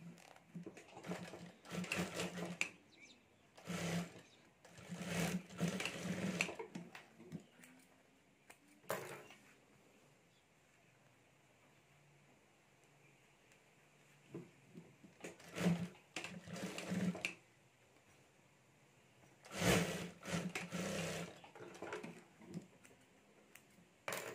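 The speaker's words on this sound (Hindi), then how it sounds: "और अब यहाँ हमें सिलाई कर देनी है" A sewing machine stitching a boho Banjara bag, running in several bursts of rapid mechanical chatter separated by quiet pauses, close and moderately loud.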